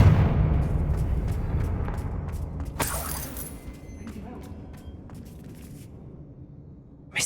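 The Confringo blasting spell in Hogwarts Legacy bursts with a loud explosive rumble that decays into scattered crackles and debris, with a sharp crack midway and another hit at the end.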